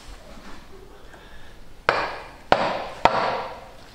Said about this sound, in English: Skillful use of a screwdriver and a hammer.